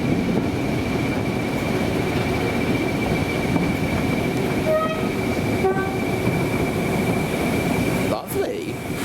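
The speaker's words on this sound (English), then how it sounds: "Looks like it's the Manning Wardle that's running today." A Manning Wardle steam locomotive train on the Kent and East Sussex Railway rumbles steadily nearby, with short whistle-like tones midway and a sharp clank near the end.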